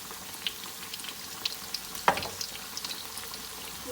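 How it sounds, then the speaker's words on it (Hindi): Lahori-style fish fries in ghee, a soft, steady sizzle with scattered small pops and one sharper crackle midway, close and moderately quiet with no voices. "ये देखिए, ये बहुत अच्छे से फिश फ्राई हो चुकी है।"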